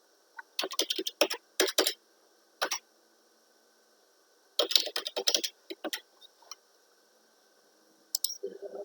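Keys clatter on a computer keyboard as station values are typed into road design software, several quick bursts of close, crisp clicks separated by short pauses.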